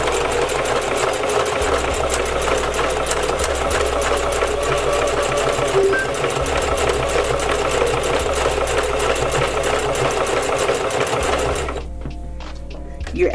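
A sewing machine runs loud and steady, stitching doubled and tripled hair weft tracks for about twelve seconds with a rapid even rattle, then slows and stops near the end.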